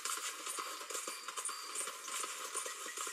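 Horse hooves clip-clop at a steady trotting rhythm in a video game, quiet and continuous with a light scrape of movement behind them.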